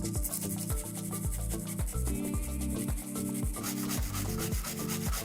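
A stiff plastic-bristled brush scrubs corrosion off an old game console part in fast, rhythmic strokes, close and fairly loud, with no voices.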